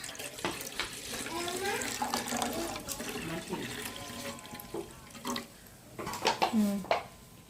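Water pours steadily into a pot in a home kitchen while finger millet porridge is being prepared; the flow is quiet and continuous, with a few soft knocks and splashes near the end.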